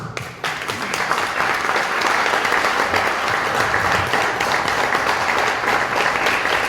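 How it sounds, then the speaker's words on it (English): A seated audience applauds a panel discussion between skeptics and Christians, with loud, dense, steady clapping filling the whole stretch right from the start. "Let's give them a round of applause."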